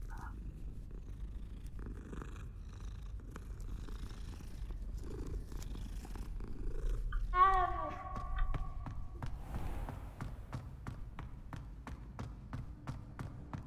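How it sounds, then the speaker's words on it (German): A cat in Hogwarts Legacy purrs steadily while being petted, a soft, continuous low rumble running through the whole stretch, with a brief tonal call rising near the middle. "Ich muss hier die Katze streicheln."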